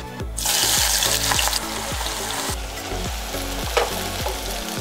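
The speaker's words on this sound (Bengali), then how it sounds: "তেলটা গরম হয়ে গেলে এবার দিয়ে দেবো আমি স্লাইস করে রাখা বেশ খানিকটা পেঁয়াজ।" Sliced onions frying in hot oil and ghee, a loud close sizzle that surges as they hit the pan, with rhythmic stirring strokes and scraping underneath throughout.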